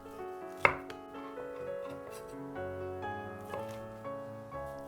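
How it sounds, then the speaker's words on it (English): A knife slices a Vietnamese pork roll thinly on a cutting board for banh mi, giving a sharp tap near the start and a few softer cuts after it, set against quiet kitchen background and no speech. "Cut in thin slices the Vietnamese pork roll,"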